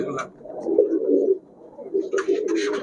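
Giribaz high-flyer pigeons, kept in pairs at a bird shop, coo in low, soft, repeated bursts, with a voice talking briefly over them.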